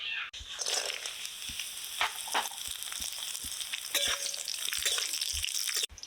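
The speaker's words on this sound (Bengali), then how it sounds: "এবার তেলের উপরে আমের ফুলসিগুলো দেবো" Raw mango pieces go into hot mustard oil that is already crackling with five-spice tempering and dried red chillies. They fry with a soft, continuous sizzle, broken by a few light clinks, and the sound stays fairly quiet throughout.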